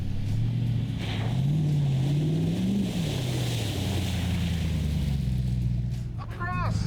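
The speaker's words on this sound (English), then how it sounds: "Your guys' trucks are too noisy." Overlanding trucks in the Utah backcountry rumble past nearby, a low engine drone rising and falling in pitch throughout, with a brief squeal near the end.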